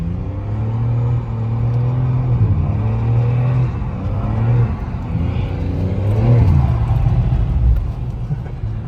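A BMW M3 drift car on a track at Le Bourbonnais gives a steady engine drone with rising and falling revs. People talk over it throughout.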